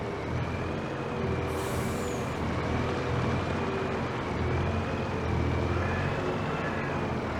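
Volvo truck in Farming Simulator 22 with a short hiss of air brakes early on over a steady low engine rumble and a faint whine.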